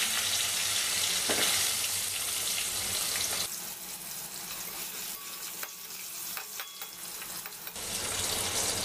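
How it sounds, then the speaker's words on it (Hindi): Potatoes frying in oil in a pan, a loud, dense sizzle that drops a little partway through and then rises again, close and steady, with a few faint clinks and no talk. "इसी में मैं आलू भी फ्राई कर लूंगी"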